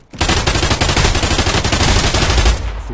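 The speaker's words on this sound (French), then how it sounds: "je n'utilise quasiment que le full auto" Loud, rapid full-auto gunfire from the video game Contractors Showdown, one unbroken burst of dense, evenly spaced shots lasting over two seconds before stopping abruptly.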